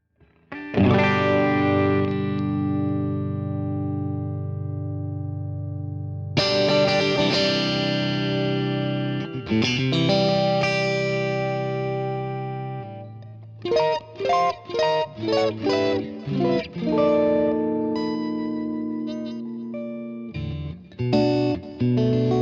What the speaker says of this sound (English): I love the way the guitar sounds clean, and also a little bit of overdrive.